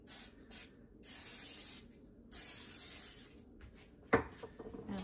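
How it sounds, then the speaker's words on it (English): Several short hissing bursts of aerosol cooking spray over a muffin tin, close by, with a sharper clatter near the end as something is set down. "Just a light little spray across the top just in case."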